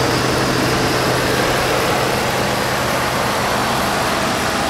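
A Ford 5.0 liter V8 idles steadily and loudly up close, a constant rumbling drone with no break or change in pace.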